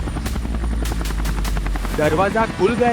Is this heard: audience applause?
no